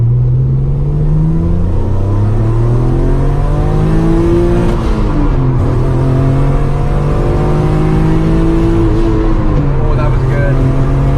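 A car engine tuned with Megasquirt engine management revs loudly and close-up, its pitch repeatedly climbing and falling as it accelerates through the gears.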